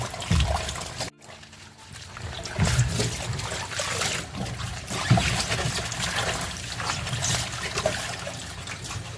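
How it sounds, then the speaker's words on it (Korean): Green onions are rubbed clean under a running kitchen tap, with a steady trickle and splash of water that carries on throughout, close and moderately loud, broken by a brief dip. "이렇게 잘문질러서 깨끗이 세척을 해주세요"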